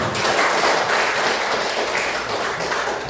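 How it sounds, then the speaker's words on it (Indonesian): An audience clapping together in a room, producing a loud, continuous rush of many overlapping claps that holds steady for several seconds with no voices on top. "Tepuk tangan dong"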